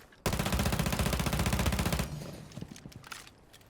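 Legion's gun in Rainbow Six Siege X fires a single sustained automatic burst of nearly two seconds, dense and rapid, then breaks off into scattered lighter in-game clatter.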